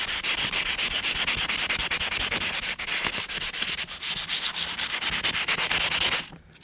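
Someone hand-sands the clear coat off the forks of a Honda CB750 Hondamatic cafe racer with rapid, rhythmic back-and-forth scratchy strokes, close and loud, continuing steadily for about six seconds before stopping.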